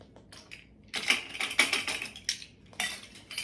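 Measuring tablespoons clink and rattle against each other in a kitchen, with a burst of quick metallic taps after a quiet start, then a few more scattered clinks.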